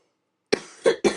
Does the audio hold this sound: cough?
yes